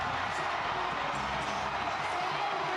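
Raucous stadium crowd roaring in steady, dense cheer after a goal at a Curaçao versus Jamaica World Cup qualifier, a continuous wall of voices with no breaks.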